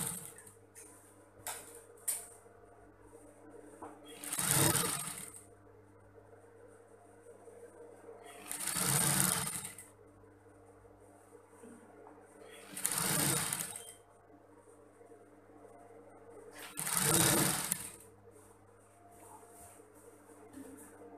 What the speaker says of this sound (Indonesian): Ini kita obras supaya kainnya mapan saat dijahit.